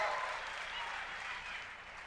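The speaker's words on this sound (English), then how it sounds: "Let's give Colette a huge round of applause." Audience applause for a man's wife, Colette, a dense steady wash of many hands clapping at once, even and sustained throughout.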